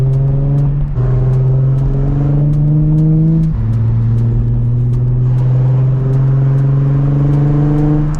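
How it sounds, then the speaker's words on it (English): A 2007 Nissan 350Z HR with a Megan Racing exhaust accelerates hard, its loud engine note climbing steadily through gears with short dips at each shift, heard close from inside the car. "this 350z is a lot louder. It has a Megan Racing exhaust kit on it."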